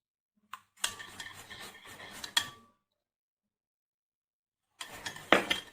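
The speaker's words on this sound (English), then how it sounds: "Just give it a good stir." A utensil stirs and scrapes through fried rice seasoned with sesame oil in a pan, a couple of seconds of rough scraping and clinking, a pause of silence, then another burst of stirring.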